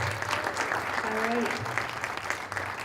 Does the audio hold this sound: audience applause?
yes